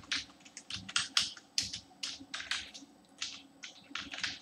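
Quiet computer keyboard typing as C# code is entered, a quick irregular patter of close key clicks in short bursts with brief pauses, no talking.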